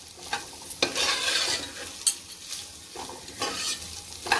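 Cashews and raisins sautéing in oil in a pressure cooker for vegetable pulao, with a steady close sizzle and repeated scraping stirs of a spoon against the pot, no talking.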